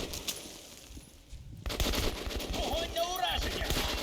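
Rapid bursts of automatic PKM machine gun fire in the video game Metro Last Light erupt after a quiet start, dense and loud, with a voice briefly audible amid the shooting.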